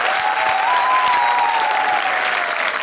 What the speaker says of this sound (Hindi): जोरदार तालियां हरभजन सिंह के लिए।